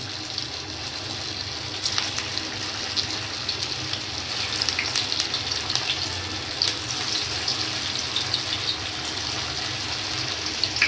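Sabudana vadas fry in hot oil on a medium gas flame, giving a steady, fairly quiet hissing sizzle with faint crackles and occasional pops throughout, with no talking.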